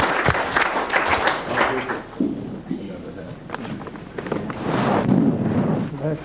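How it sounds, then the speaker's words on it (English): An audience at a monthly community meeting applauds a staff sergeant, scattered clapping that swells and fades over several seconds amid crowd murmur and some talking. "Would y'all stand and give him a round of applause"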